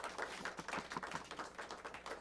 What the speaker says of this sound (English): Give our judges a big round of applause.